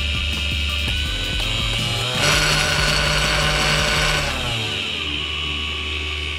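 A homemade mini wood lathe's electric motor, with no one speaking, whirs steadily and then rises to a louder, higher-pitched spin for about two seconds as the voltage is turned up, before easing back to its lower hum.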